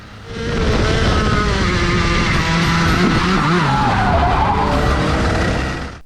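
A go-kart skids through a turn on a race track, the engine droning loudly throughout with sliding tire squeal rising and bending over about five seconds.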